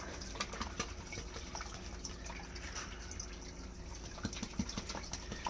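Cleaning solution for removing iron ochre bacteria is poured into a sump pump, giving a quiet, continuous trickle with scattered faint drips and splashes, heard close but low in level.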